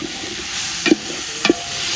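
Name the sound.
tomatoes sautéing in spiced oil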